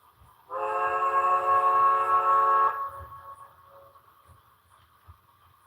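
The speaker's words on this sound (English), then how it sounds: "It's kind of like just like the sound of the rods and everything clanking." A model steam locomotive with a TCS sound decoder runs light on a layout, giving a loud steady whistle-like tone for about two seconds, then quieter rhythmic clanking of the rods continuing underneath.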